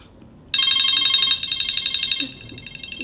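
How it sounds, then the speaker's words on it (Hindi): A phone rings with an incoming call, its bright electronic ringtone starting abruptly after a short quiet moment and pulsing steadily, close and fairly loud, then softening toward the end. "फोन आया मेरे पास।"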